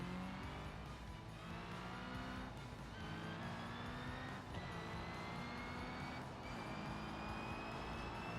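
A slow, expensive car in a video game drives steadily, its engine droning loudly and continuously, with rising pitch sweeps as it shifts through gears and revs harder.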